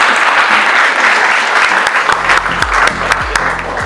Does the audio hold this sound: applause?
yes